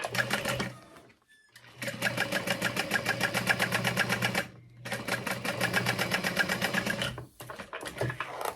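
A sewing machine stitches a bag in long, even runs of rapid mechanical whirring, stopping briefly twice between bursts, close and clear.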